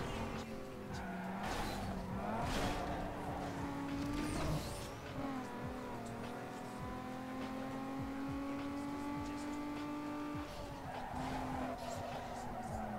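A car in Need for Speed Underground brakes hard and slides sideways, tires squealing over a steady engine drone, with the sound wavering through the slide; someone talks at times.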